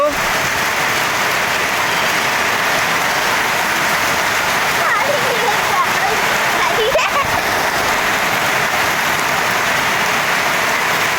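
Steady, dense rainfall hisses continuously on surfaces close by, with a faint voice briefly audible underneath.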